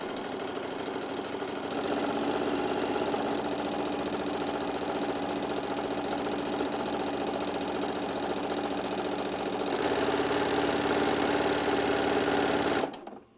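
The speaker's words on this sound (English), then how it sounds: "got my machine set up, and we're going to start getting all of our stitches done" A sewing machine stitches fabric in one long, steady run, its rapid needle chatter and motor hum continuing evenly and close before stopping abruptly at the end.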